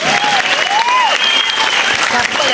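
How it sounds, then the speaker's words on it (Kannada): Loud, dense applause from a crowd at a temple celebration after a children's devotional dance, continuous clapping under a tonal, wavering voice. "ಒಂದು ಸಲ ಮತ್ತೊಮ್ಮೆ ಜೋರಾದ ಚಪ್ಪಾಳೆ ಬರಲಿ."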